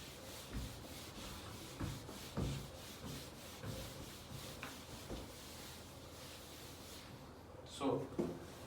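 An eraser rubbing writing off a board during a trigonometry lesson, making repeated soft scrubbing strokes in a steady rhythm, close and moderately quiet, ending with a sharper knock.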